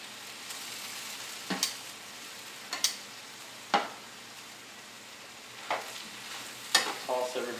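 Shrimp and vegetables with rice noodles tossed in a pan over killed heat, giving a low steady sizzle broken by several short clattering scrapes and stirs at irregular intervals, close by with no talk.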